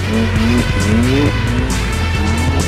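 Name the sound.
car drifting with tire squeal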